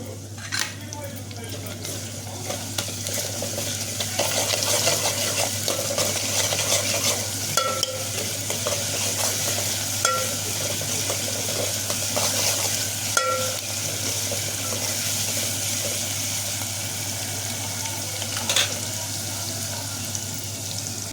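Tomatoes, okra and ginger frying in a tempering, with a steady close sizzle throughout and occasional scrapes and clinks of stirring against the pot.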